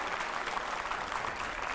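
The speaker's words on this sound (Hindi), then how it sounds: "तालियां अच्छी हैं" Dense audience applause from a crowd of children at a televised Q&A event with anchors, steady and continuous under a faint wash of hall noise, no pauses or voices standing out.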